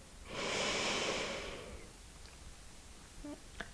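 A deep, slow inhale through the right nostril during alternate nostril breathing in a chair yoga session comes as a single soft, airy breath, close and quiet, lasting over a second before fading into near silence with faint small clicks.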